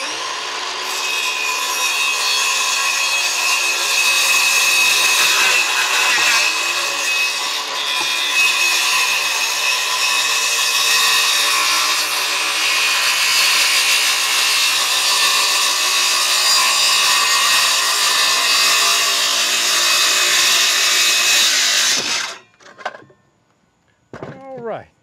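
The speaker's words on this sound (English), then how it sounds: "I'm going to take my circular saw and cut right down through there." A circular saw cuts through wooden mailbox post lumber, a loud steady whine lasting about twenty-two seconds before the blade stops and a few light knocks follow.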